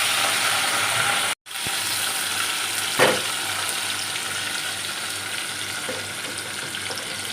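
Onions frying in white oil in a wok give a steady broadband sizzle, with a brief dropout and a faint clink near the middle.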